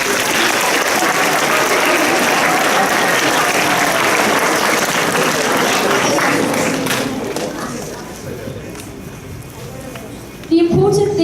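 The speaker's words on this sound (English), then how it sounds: "Can we get a round of applause for our contestants?" Applause for contestants at a secondary school assembly, lively clapping from students that fades out after several seconds, leaving quiet room noise and a brief voice near the end.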